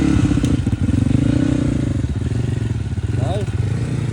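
A Crossfire (Cross X) motorcycle idling and revving nearby while being tried out at a dealership in Kathmandu, with someone talking over the steady throbbing engine and some clatter.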